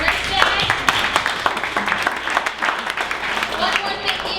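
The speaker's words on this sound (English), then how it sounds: "let's go ahead and give a round of applause for all our presenters today" Audience at a 1 Million Cups startup presentation event in Dallas claps for the presenters, a moderate continuous patter of hands with voices mixed in.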